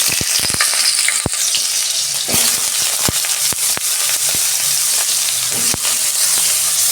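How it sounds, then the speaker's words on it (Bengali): Potato and eggplant frying in hot oil in a wok, a loud dense sizzle with sharp crackles and pops scattered through it, close and continuous, with no talking. "আলু বেগুনটা আমার ভাজা হোক"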